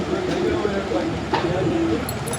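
Soft, low cooing from a male Red Suaker pigeon repeats over a steady wash of background noise.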